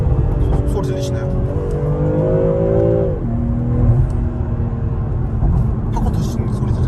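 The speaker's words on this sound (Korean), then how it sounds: "팝콘 터지는 소리 들리시죠?" BMW M340i Touring xDrive in Sport Plus mode revving, the engine note rising and then dropping off, with light crackling pops from the exhaust on the overrun while someone talks throughout.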